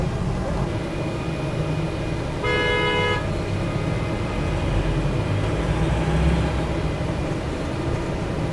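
Traffic roars steadily through the streets of Ho Chi Minh City, Vietnam, and one short, sharp car horn honk sounds near the middle over the constant engine noise.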